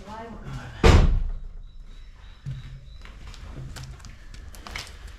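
A Mini R50/R53 car door shuts with a sharp, heavy slam, followed by quieter thuds and clicks of the door moving, with a voice talking nearby.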